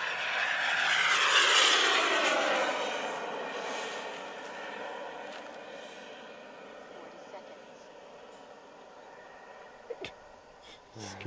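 LintonJet X80DX turbine powering an Aerofoam MB-339 model jet roars loudly in flight, a rushing whine that peaks early then fades as the jet pulls away, ending with a few sharp knocks nearby.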